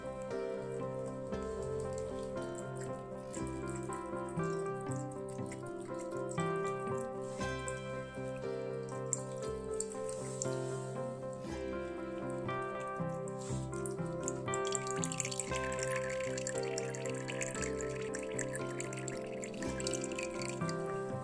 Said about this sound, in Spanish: Esto sería esta pequeña tormenta que nos está cayendo en nuestro suelo